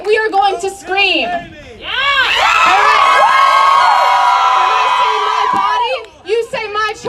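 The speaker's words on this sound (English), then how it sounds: "So today, we are going to scream." Abortion-rights protesters in front of the Supreme Court let out a sustained collective scream, loud and close, rising from scattered shouts into a long wall of voices before trailing off into yells.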